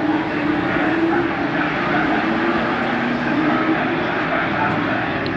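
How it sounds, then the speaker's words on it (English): Porsche race cars pull away at the start of a race at Brands Hatch, heard as a continuous, dense engine roar from a distance, steady and unbroken throughout. "Started the first race for the Porsches."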